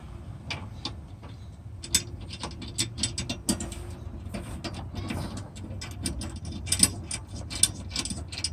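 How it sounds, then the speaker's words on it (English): Ratcheting socket wrench with a 13mm or 10mm socket tightening running board bolts on a 2017 Ram 1500 Crew Cab, giving bursts of close, irregular clicking over a low background hum. "hand tools I'm using right now are a 13mm socket, 13mm box or open-ended wrench, and a 10mm socket and a 10mm open-ended or box wrench"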